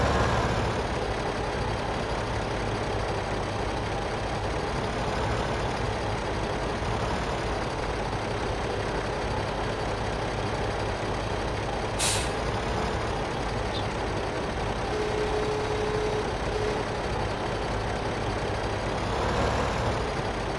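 Heavy trucks idle and rumble steadily in Farming Simulator 15 on the Melbery Estate map, a constant engine drone that persists throughout, with a brief air-brake hiss partway and faint reversing-style tones; no talking.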